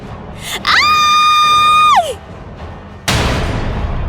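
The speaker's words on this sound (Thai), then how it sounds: "กมลเนตสติแตกกรีดร้องอย่างบ้าคลั่ง" A woman screams hysterically in a dramatized horror story, one long piercing shriek that holds and then falls away, followed by a sudden loud burst of crashing noise.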